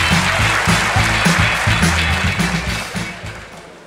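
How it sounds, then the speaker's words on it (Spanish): A live comedy show audience claps in loud, dense applause that fades slightly toward the end, with steady rhythmic clapping audible underneath. "¡Un fuerte aplauso!"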